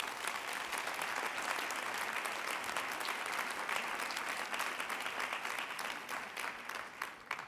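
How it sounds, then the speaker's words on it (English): Sustained audience applause at a women's leadership forum closing session, dense and steady throughout, tapering slightly near the end. "I think you could hear that applause then"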